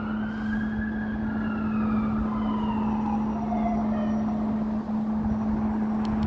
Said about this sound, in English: That siren sounded drunk.